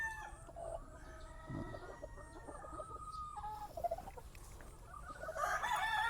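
Hens cluck softly while a Milsim's Gray broodcock rooster crows nearby in a breeding pen, with farmyard chatter of fowl continuing around them.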